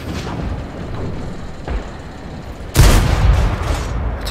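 A tank's plunging derp cannon fires in a video game: a softer thump, then one sudden heavy boom that rumbles on loudly to the end, with no talking.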